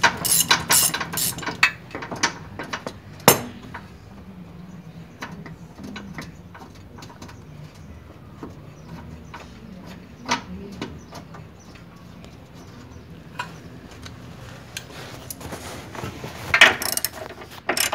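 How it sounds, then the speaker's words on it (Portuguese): A mechanic working bolts loose with a ratchet while replacing the oil pan on a 2009 Chevrolet Vectra 2.0 Expression, irregular clicking bursts and metal clinks, close by, with quieter stretches between and faint pigeon-like cooing. "Nesse momento está retirando aqui os parafusos para poder tirar o quadro"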